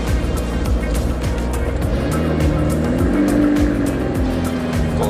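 A McLaren 750S Spider supercar drives off with a loud, close engine note that climbs in pitch, with a faint tire squeal and a continuous rumble throughout.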